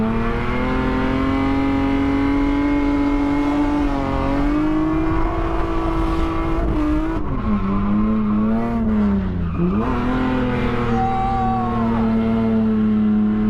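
A drift car engine revs hard and continuously through new Schmiedmann headers, pitch rising and dipping as the throttle changes, loud and close with a raspy exhaust note.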